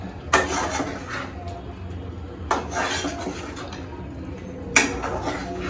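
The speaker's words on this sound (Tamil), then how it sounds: "நல்லா போட்டு எல்லாத்தையும் இப்போ போட்டு நல்லா கலந்து விடுறேன்" A spoon scrapes and clanks against a pan while paneer butter masala is stirred, with three sharp metallic knocks spaced a couple of seconds apart over a soft, continuous bubbling and scraping.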